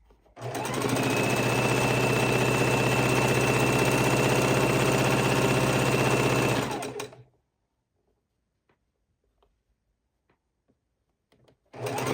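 A sewing machine stitching quilt border strips runs in one steady, loud mechanical whir for about six seconds, then stops abruptly, leaving near silence with a few faint clicks before a brief restart at the end.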